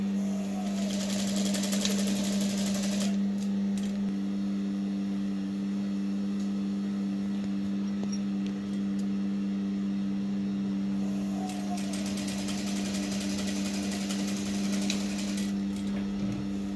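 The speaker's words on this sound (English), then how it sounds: "Sewing in the second part just the same way we sewn in the first one." A sewing machine hums steadily while stitching the second flounce section of a full circle dress, its motor whir running continuously with faint rapid needle ticking throughout.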